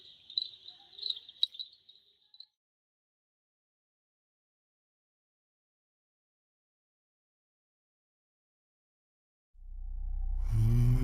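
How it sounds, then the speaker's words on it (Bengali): Crickets in the Dow Hill forest at night around a homestay, chirping in quick, high, pulsing trills for a couple of seconds before the surroundings fall silent and a low rumble rises at the end. "তার মধ্যে ঝিঝি পোকার ডাক"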